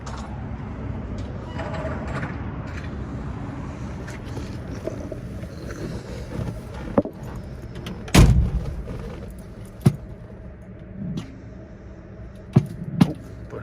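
A 1957 Ford Thunderbird with a 312 Y-block V8 and automatic transmission produces a steady low engine rumble, broken by a few sharp thumps, including a loud one partway through.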